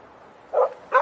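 A dog on a beach gives two short, close barks about half a second apart, each one quick and sharp against quiet surroundings.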